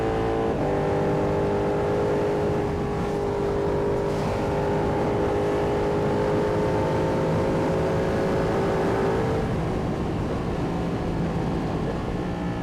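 Ducati Panigale V2 sport motorcycle engine running steadily while being ridden, a loud continuous drone with sustained harmonic tones that hold and rise slightly, then drop away near the end, with no voices.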